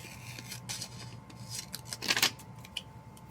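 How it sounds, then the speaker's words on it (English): Scissors snip through paper for fall-themed planner decorations at a craft desk. Several quiet, crisp cuts come in short bursts, with a brief run of quick snips near the end, close up and without talking. "So maybe get this one and cut off this part so it's even."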